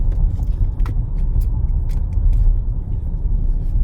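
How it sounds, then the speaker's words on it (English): A Dodge Durango V8 driving on the road, a steady low engine rumble and road noise heard from inside the cabin, with faint clicks above it. "We in a Durango today, as you can tell."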